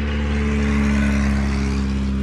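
A car passes on a nearby road beside a wide open outdoor lookout in rural New Mexico, a steady loud engine rumble with tire roar holding close throughout, no talk.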